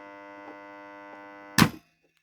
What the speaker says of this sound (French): Là, il fait du bruit, hein, c'est un gros contacteur.